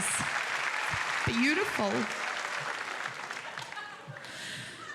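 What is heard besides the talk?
game show audience applause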